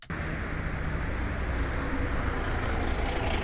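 Bus station ambience, a dense steady wash of engine idle rumble and distant crowd murmur, with no clear nearby voice.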